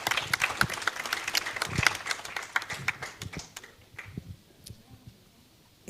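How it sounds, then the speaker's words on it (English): Audience applause after a conference talk at a data event, a dense burst of many hands clapping that fades to scattered claps and then quiet over about six seconds. "Let's give them another hand of applause."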